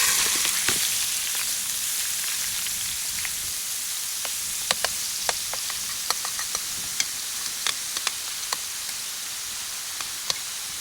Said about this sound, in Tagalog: Ilalagay na natin ang binabad natin na shrimp. Marinated sa paprika.